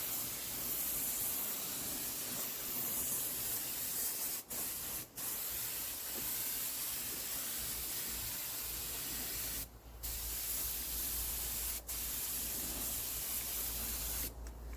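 An autotruck is spray painted with a compressed-air gun, a steady loud hiss running almost unbroken, with a few brief cut-offs where the trigger is released before spraying resumes.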